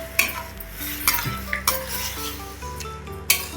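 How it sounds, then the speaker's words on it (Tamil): Cooked rice being mixed into sambar in a pan, with repeated spoon scrapes and metallic clinks over a low sizzle, close up and without talk. "வேக வச்ச சாதம் இதோடைய சேர்த்துடலாம் எல்லாத்தையும் நல்லா மிக்ஸ் பண்ணி விட்டுடலாம்"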